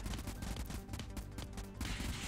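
Gunfire in the game Convoy comes as a dense, rapid volley of shots under a steady low rumble. The shots are moderately faint and there is no talking.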